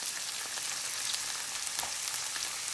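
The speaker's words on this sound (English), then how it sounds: "I'm gonna be adding 1 cup of frozen green peas" A pot of king fish stew simmers with a soft, continuous sizzle and bubbling as frozen green peas go in, faint and steady with no voices.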